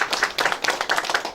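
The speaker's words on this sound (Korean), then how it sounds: "박수 부탁드립니다." Audience applause at a county residents' online town-hall forum, a short burst of brisk, evenly paced hand clapping from a small group close by, with no talk over it.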